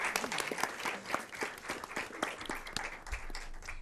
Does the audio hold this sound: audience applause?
yes